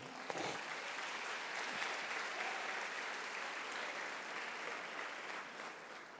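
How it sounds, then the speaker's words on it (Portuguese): A church congregation applauds loudly and steadily for about six seconds, a dense wash of clapping that fills the space with no talking over it. "dá um aplauso bem forte ao Senhor"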